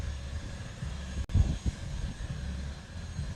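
Jet aircraft at Honolulu airport, a steady engine roar heard from a distance with a brief dropout and a short louder burst midway, no voices.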